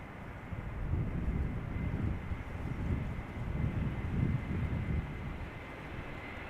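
An Airbus A321neo jet arriving from Athens at Amsterdam Schiphol Airport, a steady broad roar with low rumble, moderately loud and sustained, with no talking.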